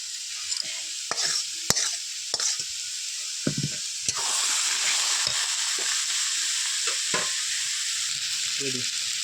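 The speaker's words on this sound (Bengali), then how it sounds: "এবার কাঁকড়াগুলোকে আমি ঢেলে দেবো চাল কুমড়োর মধ্যে।" Crabs tipped into an ash gourd curry fry and get stirred in a village-style Bengali pan. Scraping stirs and knocks come first, then a steady loud sizzle runs to the end, with no one talking.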